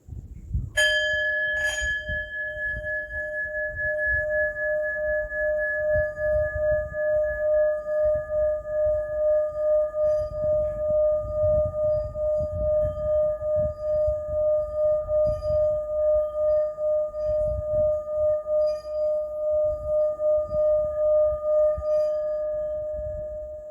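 A singing bowl is struck once with a stick, giving a bright ringing strike, then the stick is rubbed around the rim to draw out a steady, sustained pure tone with a gentle pulsing wobble that holds for about twenty seconds.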